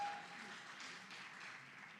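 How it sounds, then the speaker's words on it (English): Sustained audience applause and cheering after a Bharatanatyam arangetram dance performance, a dense, steady wash of clapping from a large crowd, moderately loud and continuous throughout with no talk over it. "Give it up for them. Yeah, loud cheer, please."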